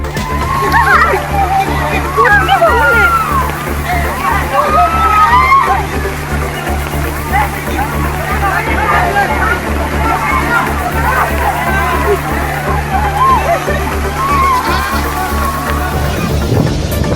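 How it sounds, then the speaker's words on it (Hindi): Floodwater in Kerala pours down from a hillside beside a road, a steady loud rushing and splashing roar that fills the whole stretch, with low rumble and faint voices mixed in underneath. "सड़क किनारे पहाड़ के ऊपर से पानी देखिए किस रफ्तार से आ रहा है।"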